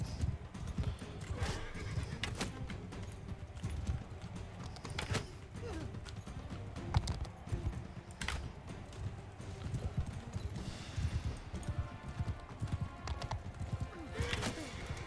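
Rhythmic clip-clop of horse hooves at a steady trot in the video game Mount & Blade II: Bannerlord, with an occasional whinny, continuous and fairly close.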